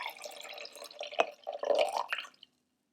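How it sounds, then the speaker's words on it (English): Water is poured from one cup into another, a close, soft trickle and splash lasting about two seconds, ending with a last drip before silence. "lift it up over to the other cup and pour the water in like this"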